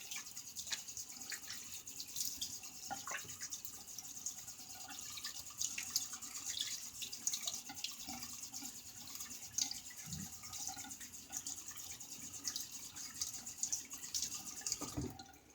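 A razor is rinsed under a running tap, water streaming and splashing steadily into a sink, faint and fairly even throughout with small drips and clinks.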